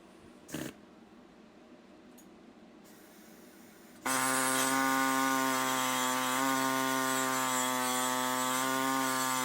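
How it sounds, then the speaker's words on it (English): Abrasive cutoff wheel slicing through steel pipe during fabrication work, a loud steady grinding whine with strong tonal harmonics starting abruptly after a few faint knocks and continuing unbroken to the end. "I tried using the cutoff wheel and I started getting into here a little"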